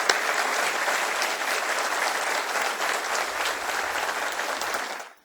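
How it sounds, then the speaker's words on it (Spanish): Audience at a 50th-anniversary ceremony for SENATI's first graduating class applauding, a dense, steady burst of clapping from a sizeable crowd for about five seconds before cutting off. "Un aplauso por haber estado aquí."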